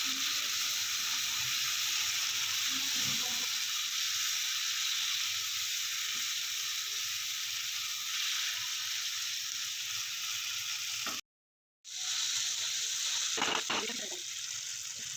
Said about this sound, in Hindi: हाफ़ फ्राई जो अरबी है वो मैं इसमें ऐड कर दूँगी और इसके साथ साथ ही जो सब्ज़ मिर्चें थी कटी हुई वो ऐड करूँगी